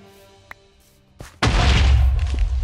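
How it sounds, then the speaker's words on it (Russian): In Minecraft, after a few small clicks and a short thud, a sudden loud TNT blast bursts out and rumbles on with crackling debris, close and heavy. "Неплохо. Неплохой взрыв."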